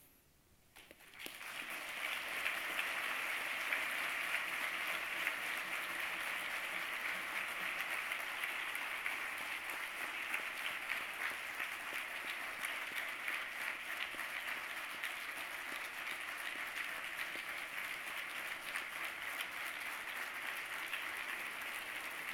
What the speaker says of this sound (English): I'd like to ask all of you to join me in giving a big round of applause to Gwen